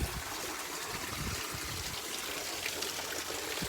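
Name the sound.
running seawater flowing in an onsen hot spring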